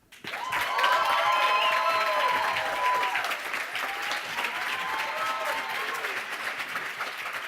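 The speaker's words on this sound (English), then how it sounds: "A big applause, please" Audience applause fills a hall at a project slam event, a dense sustained clapping from a large crowd that swells quickly and holds steady throughout, with a faint tonal musical line running beneath it.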